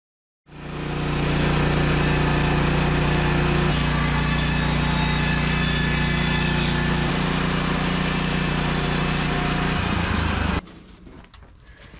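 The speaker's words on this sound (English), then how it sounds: "How thin of a piece have you cut before on your Woodland Mills sawmill?" A Woodland Mills band sawmill runs at a steady, loud engine drone while slicing a thin board, the pitch shifting partway through before the cut ends abruptly and the noise drops away.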